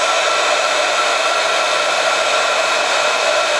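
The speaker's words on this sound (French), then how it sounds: "avec mon pistolet chauffant, je vais venir chauffer doucement par en dessous." A heat gun blows a steady, loud, continuous whoosh of hot air while gently warming a Christmas card from underneath to emboss it in gold.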